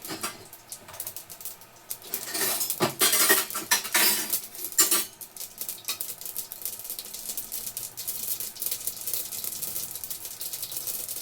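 Bitter gourd being cut in a home kitchen, with a knife clicking and scraping on a board. The strokes are irregular, close and fairly loud, with a busier run of cuts near the middle and no talking.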